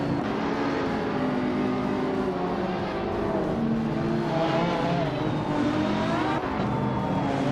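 A pack of race cars, led by a 2019 Brabham BT 62, accelerates off the start of a video game race at Lime Rock Park on the no-chicane layout, a loud, sustained layered engine roar with rising revs throughout.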